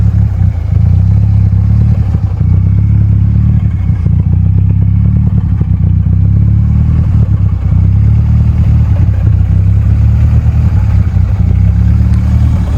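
A turbocharged Volvo 245 running rough on the road, its engine a loud, steady low drone with clattering texture throughout, no voices over it.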